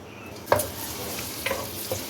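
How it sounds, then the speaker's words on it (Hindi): Sliced medium onion frying in lightly heated oil in a pot, a soft steady sizzle with a few brief stirring clatters near the start, middle and end; close by, no voices. "अब प्याज को इसमें फ्राई कर लें।"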